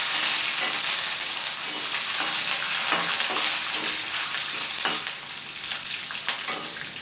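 Lentils and slit green chilies fry in a hot pan with a dense, continuous sizzle and crackle, broken by a few soft stirring scrapes and spoon clinks.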